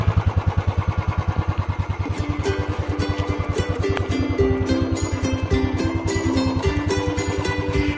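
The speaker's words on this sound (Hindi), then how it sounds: "ओरिजिनल और रॉ साउंड है इंजन का जो आप यहाँ सुन रहे हैं।" A stock, unmodified Royal Enfield motorcycle idles close by with a loud, even thump from its exhaust; the beat stays steady while a rattling mechanical clatter rises over it partway through.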